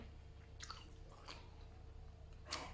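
Someone chewing a spicy mala konjac noodle snack close to the mic, three soft squishy bites spaced about a second apart over a quiet background hum.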